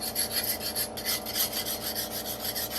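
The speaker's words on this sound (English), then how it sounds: "If there is, I sometimes take an old flat file" An old flat file rasps along the edge of a chainsaw-milled wooden beam in quick, rhythmic back-and-forth strokes, close and fairly quiet, with no voices.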